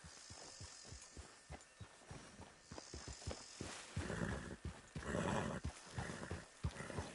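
Horse trotting in Red Dead Redemption 2: a steady run of thudding hoofbeats with regular rhythm, growing busier and louder toward the end amid game ambience.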